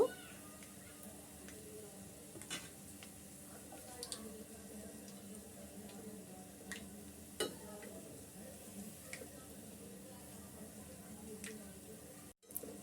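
Jhuri pitha, a Bengali snack, frying in hot oil: a soft continuous sizzle with scattered pops and faint utensil ticks, quiet and close, ending in a sharp clatter.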